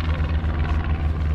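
Yankee Lady, a vintage World War II aircraft, taxis out at an air show. A loud, close, steady engine drone with a throbbing low rumble continues throughout without a break.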